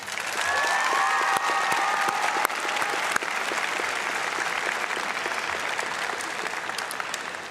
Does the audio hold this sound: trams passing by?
no